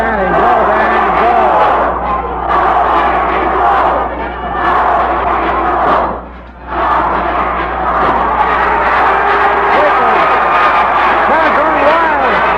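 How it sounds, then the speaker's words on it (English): A packed crowd at a Stampede pro wrestling match roars and yells continuously and loudly, with chanting voices mixed in and a brief dip in the middle before the din surges back. "Crowd going wild."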